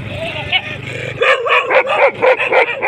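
Dogs on a farm give a run of close, loud yips and whining barks that grow faster and denser midway, mixed with whimpering cries.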